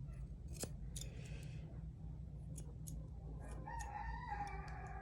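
Scattered sharp snips of scissors trimming a Mi-Ki dog's fur over a low steady hum, with a rooster crowing in the background.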